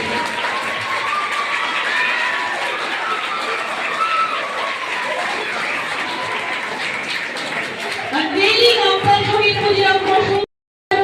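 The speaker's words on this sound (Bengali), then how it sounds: "আমাদের আবরণ উন্মোচন করছে একটা করতালি সকলের কাছ থেকে" An audience at a statue unveiling at a school breaks into sustained applause, loud and close, with a steady wash of clapping for around ten seconds, a few voices mixed in near the end before it cuts off.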